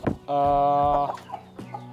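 A mother hen used for breeding gives a loud, close, drawn-out cluck lasting under a second, followed by softer short clucks and chicken calls.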